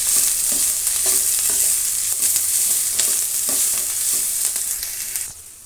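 Chopped onions and green chilies frying in oil in a pan for rice bath, a steady bright sizzle with rhythmic stirring scrapes, close up and with no voices.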